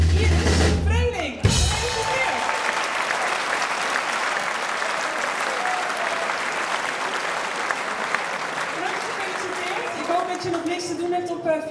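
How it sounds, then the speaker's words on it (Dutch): An audience at a sports gala breaks into sustained applause that continues steadily throughout, with a brief burst of other sound at the very start. "een heel groot applaus voor Iris Vreeling, Lotte Hamstra, Sten Klos"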